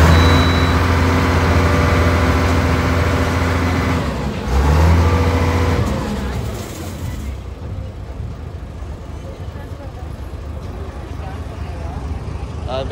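Motorbike and vehicle engines rumble and rev as bikes roll off a river ferry at a Godavari landing near Narsapur, loud and close at first, then fading into a quieter, noisy background; voices talk over it.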